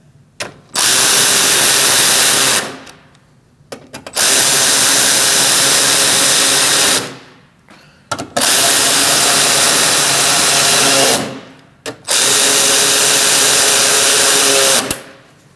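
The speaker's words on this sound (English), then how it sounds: "Now we're going to put our bolts in. Let's tighten those up." A power tool tightens the bumper cover bolts on a 2016-2019 Chevrolet Cruze, running in three long, loud bursts of whirring and ratcheting with short pauses in between.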